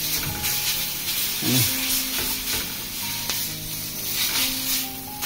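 Prawns frying in oil on a tawa for chingudi patrapoda, a steady close sizzle that runs the whole time with faint stirring scrapes mixed in.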